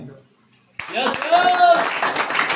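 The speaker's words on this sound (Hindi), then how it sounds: "अभी छोटे छोटे ताली मिल रहा है, इसके बाद बड़ा ताली मिलेगा" Audience at a multi-level marketing plan presentation breaking into light, scattered clapping after a pause, with someone talking over the applause.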